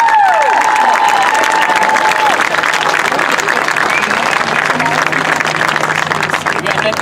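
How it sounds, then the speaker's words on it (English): Loud, sustained audience applause with cheering at a band's parent preview competition and half-time show, a steady wash of clapping throughout with whistles and crowd noise mixed in. "So let's give them another round of applause."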